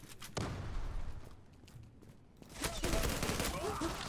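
Gunfire in the online shooter Zula, with rapid bursts of shots at the start and a heavier cluster of firing near the end, separated by a quieter stretch.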